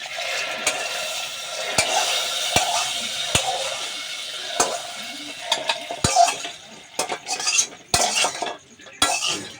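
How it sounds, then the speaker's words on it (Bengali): Lentils fry in a kadai for khichuri, giving a soft, steady sizzle close by. Sharp clicks of a metal spoon against the pan cut through it, and they grow busier and more irregular toward the end. "আর এই যে ডালটা ভাজা হয়ে এসছে"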